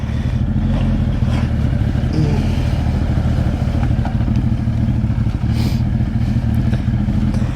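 A Suzuki Hayabusa motorcycle rumbles continuously while riding, loud and close, with wind and road noise mixed in and no one talking.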